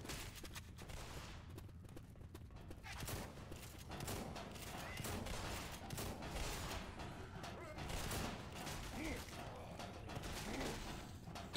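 Weapon reloading amid gunfire in the video game Left 4 Dead 2, with clicking and ratcheting mechanical sounds over a dense, continuous stream of shots and game noise, quiet overall, with some voices underneath.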